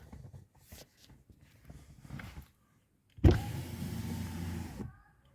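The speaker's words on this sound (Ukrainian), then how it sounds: "склопідйомник працює. Тепер який у нього звук дивний" After some quiet shuffling, a Tesla Model 3's repaired door window motor whirs for a second and a half with a thud at the start, close and clear.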